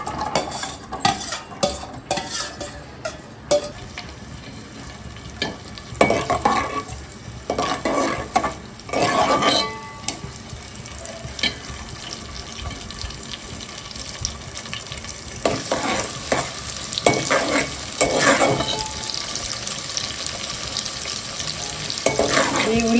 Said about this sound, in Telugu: స్టవ్ వెలిగించి నూనె కొంచెం కాగిన తర్వాత ఉల్లిపాయ ముక్కలు వేయాలి